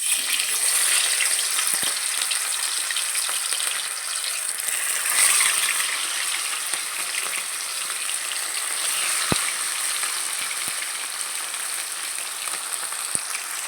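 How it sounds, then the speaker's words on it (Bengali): Rohu fish pieces fry in hot oil with a loud, continuous sizzle and crackle, close by, joined by a few sharp clicks and taps. "দেখো তেলটা গরম হয়ে গেছে, এবার মাছগুলো আমি ভেজে নেবো একটা একটা করে।"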